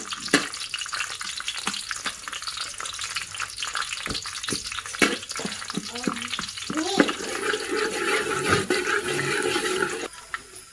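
Garlic fries in oil in a pan while making fried rice, a sizzling crackle that builds and grows steadier toward the end, with a few clinks of a utensil stirring nearby.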